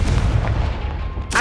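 A Confringo fire blast spell in Hogwarts Legacy erupts as a loud, dense burst with heavy low rumble, holding steady for over a second before a sharp crackling flare at the end.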